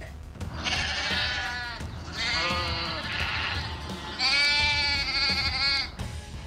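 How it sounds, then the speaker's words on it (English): Three wavering bleats from a sheep, close and loud, each a second or more long with short pauses between them. "Sheep."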